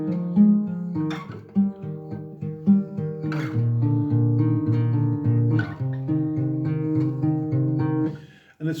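A fingerstyle acoustic guitar plays a slow pre-chorus passage alone, with plucked notes and chords ringing out cleanly in a steady, unhurried rhythm.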